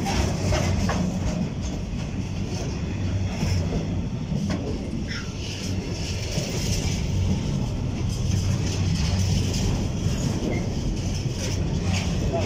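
A DB Cargo freight train hauled by locomotive 66105 rolls past close by in a steady, loud rumble with faint rhythmic clatter of wheels on track, continuing throughout.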